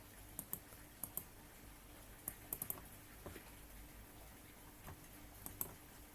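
Key clicks from a computer keyboard come in scattered bursts while working in a spreadsheet, some taps close together, others spaced apart, faint and quiet over a low steady room hum.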